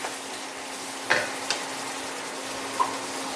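Pork simmering in a pan for a Thai basil stir-fry, a steady soft sizzle and bubble with a few faint ticks of a utensil against the pan, close and alone without talk.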